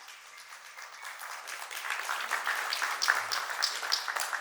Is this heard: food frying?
no